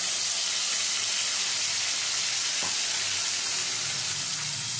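A paste of onion, garlic and green chili fries in hot oil for a potato-pumpkin dish, giving a loud, steady sizzling hiss with one brief clink partway through and no voices.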